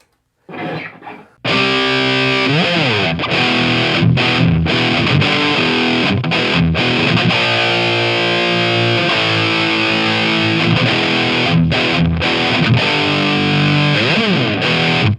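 Donner DST-550 electric guitar played through an Angle Fireball 25 amp with the gain turned up, giving thick distorted chords and riffs that ring loud and continuous after a brief opening strum.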